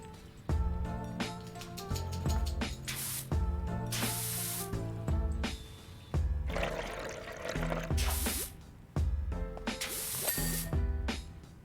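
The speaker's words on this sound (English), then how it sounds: "if only I had a rust cleaner that was like this, that worked this good, this fast, it'd be amazing." Rust cleaner sprayed in a video game, four or five hissing bursts in a regular rhythm, each sounding over a bed of music.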